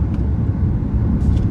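Hyundai Santa Fe petrol engine while driving, a steady low rumble with road and traffic noise throughout the short stretch, fairly loud and without talk.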